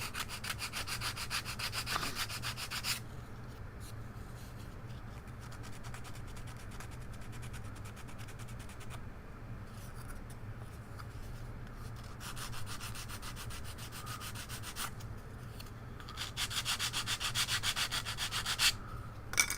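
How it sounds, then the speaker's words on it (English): Steady, close rasping of sandpaper glued to a wooden stick, 180 grit on one side and 100 on the other, rubbed back and forth over wood at a workbench in continuous strokes with brief pauses. "This is my stick that I glued sandpaper to. I got 180 grit on one side and 100 grit on the other side."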